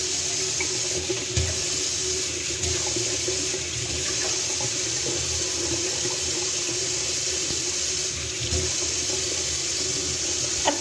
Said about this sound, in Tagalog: Banlawan.